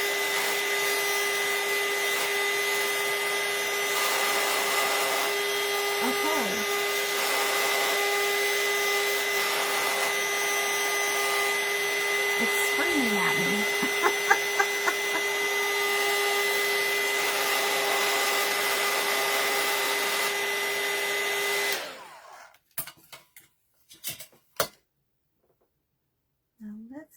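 A hair dryer runs steadily for about twenty seconds, drying a handmade crow doll. Its droning whine stays loud and even, then cuts off and leaves a few faint clicks and handling sounds.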